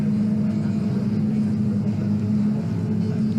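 A Mod Sports Midget race car with a Millington engine runs at Donington Park, giving a steady, unbroken engine drone at moderate loudness throughout.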